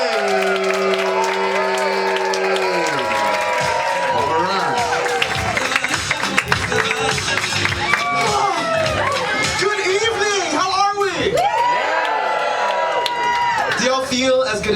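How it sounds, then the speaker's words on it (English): Loud, sustained applause and cheering from a comedy club audience at a Thursday night stand-up show at Club Cumming as a comedian is introduced, with whoops over the clapping and crowd babble throughout. "let's give it up for Achille."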